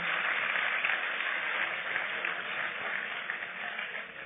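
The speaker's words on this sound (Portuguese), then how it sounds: "aplauda o senhor logo forte" A church congregation applauds in praise, producing a steady, dense wash of clapping that holds at an even level throughout, with no pauses and a slight thinning near the end.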